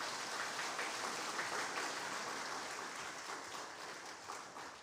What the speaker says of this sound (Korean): 박수해 주시고요